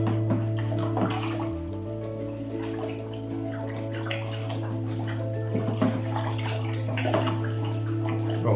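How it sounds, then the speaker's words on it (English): Homebrew wort stirred in a vessel to dissolve sugar and malt makes a continuous close sloshing, swirling liquid sound with low background hum and small splashes. "Now we're going to give it a good stir, get all that sugar dissolved, get all that malty goodness dissolved as well."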